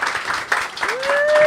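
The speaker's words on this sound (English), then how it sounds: "please give a round of applause right now for Alyssa, everybody." Audience applause erupts at a live ManwhoreCon stage show as a guest named Alyssa is welcomed on, a brief burst of clapping and cheering with a rising whistle-like tone running through it.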